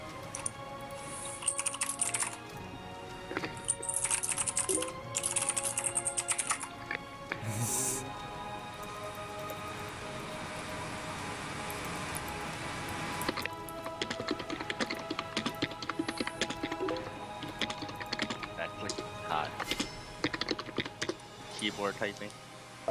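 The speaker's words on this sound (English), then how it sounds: "Keyboard typing." Computer keyboard typing during a League of Legends session, a run of quick, uneven key clicks heard close-up over game sounds and music, with people talking over it throughout.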